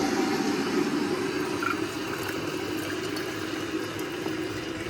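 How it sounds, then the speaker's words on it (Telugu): Hot water pours steadily into a kid's water bottle in a home kitchen, a continuous rushing, gurgling stream that stays close and even throughout with no talking. "నీ వాటర్ బాటిల్ వాటర్ పెట్టేస్తాను. హాట్ వాటర్ పెడతా."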